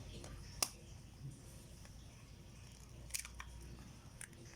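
A fresh chicken egg with a thick, hard shell is tapped, giving a few sharp, faint clicks spaced seconds apart over a quiet background.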